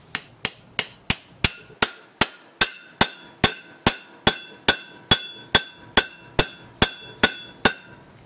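A metal plate tapped into place with a hammer while building a plastic melting column: about twenty sharp, evenly spaced ringing taps, close and loud, with no talking.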